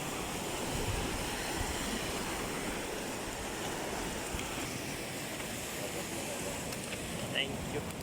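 Steady ocean waves wash ashore on a rising tide at a fishing beach, a continuous broadband roar of surf with wind, fairly close and even in loudness throughout, with no distinct voices.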